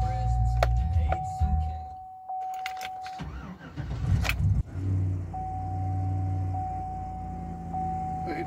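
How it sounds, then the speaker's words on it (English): A 2010 truck engine cranks and catches, then settles into a steady idle, close by. A warning chime repeats throughout, and there are brief clicks and jingles. "I'm just gonna start the truck up and see if the engine light goes out."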